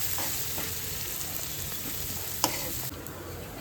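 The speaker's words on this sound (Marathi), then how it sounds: "कांदा लाल होईपर्यंत परतून घ्या" Onion frying in a pan for a Maharashtrian spine gourd (kartule) dish, a steady close broadband sizzle with one sharp clink partway through.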